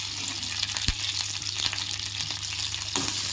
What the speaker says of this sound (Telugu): బాగా ఫ్రై చేసుకోవాలి. ఒక 2 మినిట్స్ బాగా ఫ్రై చేసుకోండి